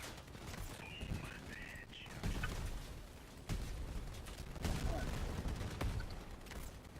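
Gunfire in the vehicle combat game Crossout, a faint, irregular crackle of shots and bursts over a noisy background, with a few sharper cracks standing out.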